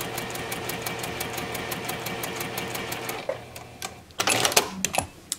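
A sewing machine stitches quilt pieces at a fast, even rhythm, then briefly reverses for a back stitch, followed by a few louder clattering bursts near the end; no voices.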